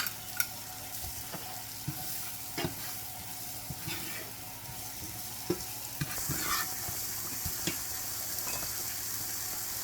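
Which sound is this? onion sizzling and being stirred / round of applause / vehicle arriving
onion sizzling and being stirred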